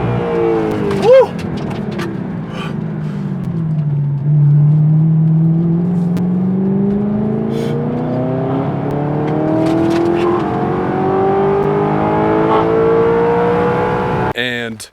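A supercar's engine dips low then climbs through a long, rising revving roar as it accelerates, loud and close from inside, ending with a short noisy burst.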